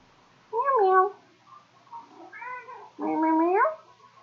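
A cat meows three times in a quiet room, the first and last calls loud and drawn out with a softer, shorter one between, the cat answering no one in particular.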